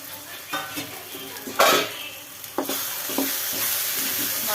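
A spoon stirs chili powder, garam masala and coriander powder into tomato frying in oil for a gizzard and liver gravy, with a soft sizzle, a couple of sharp scrapes and clinks against the pan.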